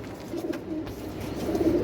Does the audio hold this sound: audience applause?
no